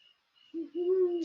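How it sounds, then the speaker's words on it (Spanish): A single owl hoot rings out in a forest at night, a smooth, steady low call held for most of a second against near silence, clear and fairly close. "vamos a escuchar el sonido del bosque y los búhos en el fondo"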